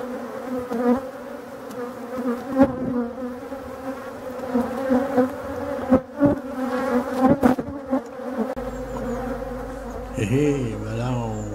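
Agitated honey bees swarm around an opened hive during a Breton honey harvest, their loud droning buzz dense and continuous at close range with no talk.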